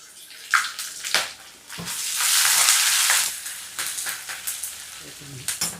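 Ginger pieces and chopped green chillies are tempered in hot oil for hotel-style upma, giving a loud, steady sizzle that swells in the middle, broken by scattered clinks and scrapes of stirring.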